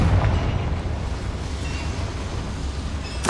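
Confringo spell cast in Hogwarts Legacy, a loud rumbling blast that rolls on as a steady roar for a few seconds with no voices over it.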